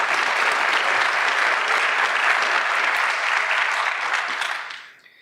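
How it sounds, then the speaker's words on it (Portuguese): Sustained applause from a large audience for Brazilian minister Paulo Guedes, a dense, even wash of clapping that holds steady, then fades out over the final second, with no voices above it. "Palmas ao ministro Paulo Guedes"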